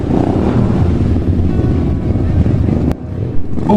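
Motorbike engine easing off while riding through a town centre, a broad steady drone with rushing wind noise on the microphone, dropping in level near the end as it slows.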